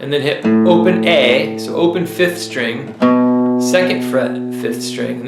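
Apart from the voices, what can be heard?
No everyday noise stands out behind the speech.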